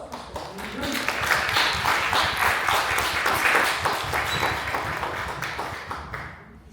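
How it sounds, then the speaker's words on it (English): An audience applauds a speaker at a Dallas Asian American community talk, clapping swelling to a steady, fairly close round with a voice briefly at the start, then tapering off. "I ask you to join me with a nice round of applause for Stephanie Drenka."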